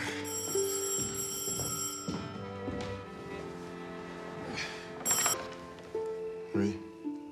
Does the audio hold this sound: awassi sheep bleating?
no